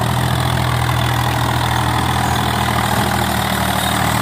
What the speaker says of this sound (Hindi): और ये यहाँ से चढ़ेगा ट्रैक्टर है ना